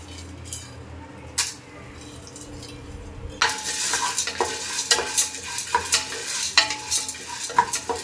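Black-eyed peas are stirred and dry-roasted in a pressure cooker, a spoon scraping and rattling the dry beans against the metal in repeated close strokes after a quieter start.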